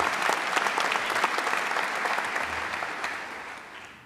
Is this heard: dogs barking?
no